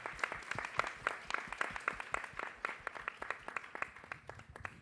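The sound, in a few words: church congregation applause for a student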